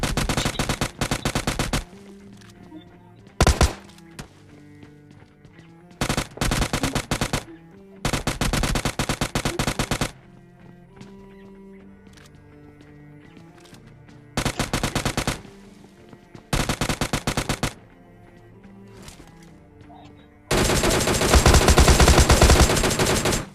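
Gunfire during a close fight in the mobile shooter PUBG Lite, with loud bursts of automatic fire and single shots separated by quieter stretches of game sounds. A long, dense burst closes the sequence, and no one speaks.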